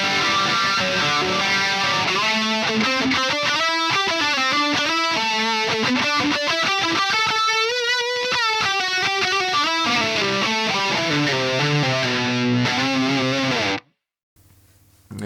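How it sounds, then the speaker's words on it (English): Distorted electric guitar played through a chorus pedal placed in front of the amp, loud and close, with sustained chords and lead notes that wobble slightly, ending abruptly in near silence. "I prefer the chorus in front of the amp because this sounds like this."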